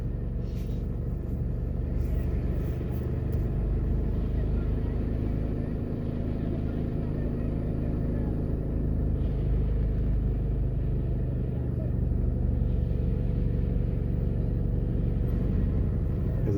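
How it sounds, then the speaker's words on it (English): A taxi running a red light on Grant's Pen Road in Jamaica, heard from inside a moving vehicle as a steady low traffic rumble that continues throughout. "that taxi just went right through the red lights"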